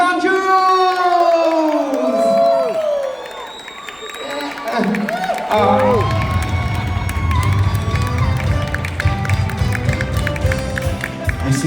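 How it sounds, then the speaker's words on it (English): Convention crowd at a comic con in Glasgow's SEC cheers and whoops loudly for a guest being brought on stage, with a shouted name and excited voices throughout, swelling into sustained roaring applause. "Big cheer for Danny"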